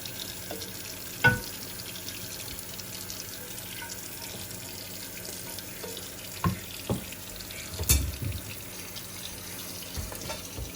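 Hot tap water running steadily over cooked ground beef chuck in a kitchen strainer, a continuous close wash with a few sharper splashes and clatters, no talking.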